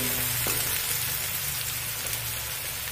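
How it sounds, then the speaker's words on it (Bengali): A steady, close sizzle of onions frying in a pan, with a dense crackling hiss throughout and no voices. "পেঁয়াজটা একটু ভাজা করে নেব"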